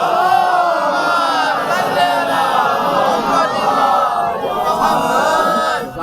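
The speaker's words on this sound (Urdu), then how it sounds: "صلوات پڑھ دو محمد آل محمد" A large gathering at a Muharram majlis recites salawat together, many voices blending into a loud, sustained, rolling chant that swells and holds steadily throughout.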